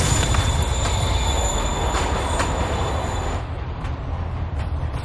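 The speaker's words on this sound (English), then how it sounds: "Train's moving." A moving train in the Marvel's Spider-Man Remastered video game rolls along with a loud, steady rumble and rail noise, wheels squealing faintly on top, easing slightly in level toward the end.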